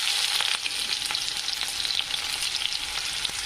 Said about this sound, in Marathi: कांदा छान असा फ्राय होऊ द्यायचा.